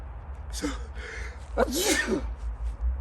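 One sharp sneeze bursts out close by, preceded by a quick inhaled catch, against a low background rumble.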